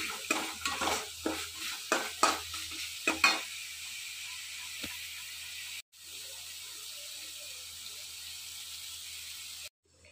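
Masala roasting in a pan for a potato, okra and cowpea curry, with stirring scrapes and a soft sizzle, busier at first, then a quiet steady hiss before cutting off near the end.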